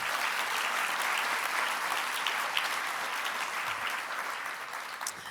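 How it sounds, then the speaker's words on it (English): An audience at the SID-US 2022 conference plenary claps in a dense, sustained round of applause that holds steady and then tapers slightly, with no speech over it. "can we please give them another round of applause?"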